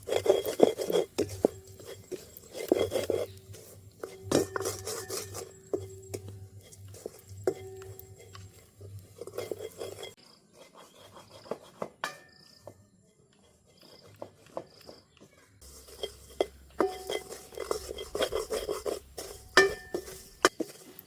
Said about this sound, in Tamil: தேங்காப்பு வறுபட்டு நல்ல ஒரு வாசமும் வருது